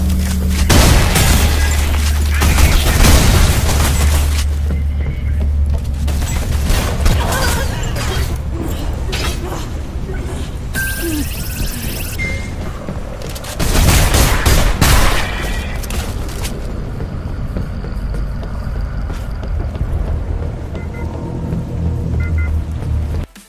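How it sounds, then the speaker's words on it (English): Shotgun fire in the video game Selaco, heavy booming blasts amid continuous loud combat noise, with crashes and rumbling layered over the whole stretch. "an even more thunderous shotgun, which will definitely go down in history as one of the greatest shotguns in gaming"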